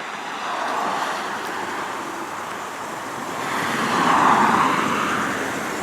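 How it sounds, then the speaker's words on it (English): Idling engine of a 2001 VW Jetta GLS, a steady, fairly quiet broadband hum with some wind or road wash, swelling slightly toward the end, heard alone without talk. "Engine's nice and quiet."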